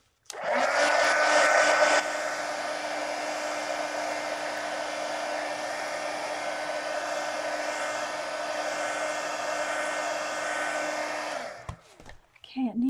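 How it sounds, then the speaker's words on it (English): A heat gun blows steadily on a mixed media art journal page to dry paint, a loud continuous whirring hiss that runs for about eleven seconds before cutting off, with a brief rustle after. "I'm going to hit with the heat gun real quick."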